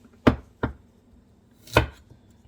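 A knife slicing through fresh ginger root on a cutting board, three distinct close chops spaced apart against a quiet background.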